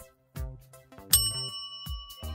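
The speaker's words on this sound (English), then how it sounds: "How does an electric bell work?" An electric bell ringing in short bright dings, several separate strikes with one lingering metallic tone, clear and close with no talk.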